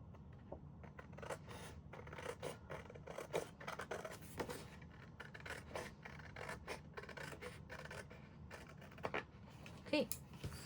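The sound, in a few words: cutting paper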